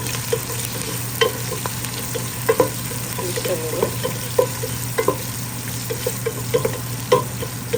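Tomatoes, bottle gourd and curry leaves frying in a pan, a constant sizzle with regular stirring knocks and scrapes, close and fairly loud over a low hum.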